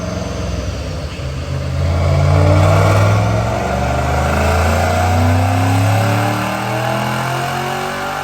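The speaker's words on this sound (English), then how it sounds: "I love the sound of this 3-valve. It has Flowmaster mufflers on it." A supercharged 2008 Ford Mustang GT 3-valve V8 with a Paxton supercharger and Flowmaster mufflers pulls hard on a dyno, its loud engine note climbing steadily with rising harmonics throughout, close and with no talking.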